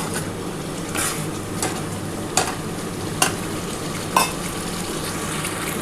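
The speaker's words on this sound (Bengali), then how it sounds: "এবার মশলার জলটার সাথে আমি ভালো করে কষিয়ে নিচ্ছি।" Spice paste and water being stir-fried in a pan for a Bengali fish dish, with a steady sizzle broken by several sharp scrapes and knocks of the spoon against the pan.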